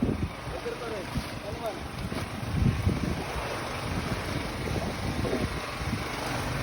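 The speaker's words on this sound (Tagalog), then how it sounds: "Grabe likot ng alon." Rough open-sea waves slosh and slap around a small fishing boat near a payao, with gusty wind buffeting the microphone and a voice speaking intermittently over the choppy water.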